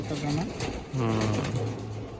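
Low pigeon coos repeat from inside a loft, one rolling call swelling near the middle, while a person talks close by over the birds.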